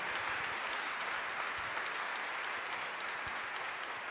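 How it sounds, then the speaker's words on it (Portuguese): An audience at a gospel rap gathering claps hard in a dense, steady wash of applause that holds evenly throughout, with no voices on top. "Aplaude mesmo, aplaude ao Senhor"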